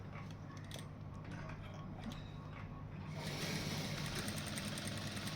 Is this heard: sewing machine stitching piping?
yes